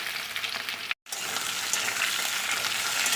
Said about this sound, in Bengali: আর এখন দিচ্ছি ঝিঙেগুলো